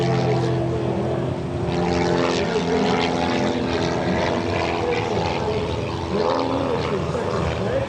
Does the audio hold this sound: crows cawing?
no